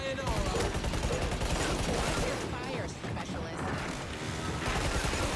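Rapid, dense gunfire from the Killing Floor 3 video game rattles continuously with crashing impacts, loud and near, while a voice talks over it.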